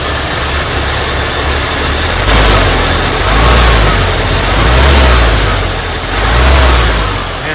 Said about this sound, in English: Rebuilt carburetor. Just like that. Starts right up.